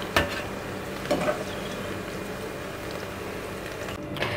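Fried okra lifted out of hot oil in a wok with a slotted spoon over low flame, steady oil sizzle throughout with a few clanking scrapes of the spoon against the wok.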